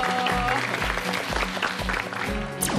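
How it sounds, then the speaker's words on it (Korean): A studio audience on a Korean health variety show applauds at the end of a segment, with clapping mixed under rhythmic background music and thumping beats. "오늘 함께 해주신 우리 전나랑 몸티키 여러분 큰 박수 부탁드립니다."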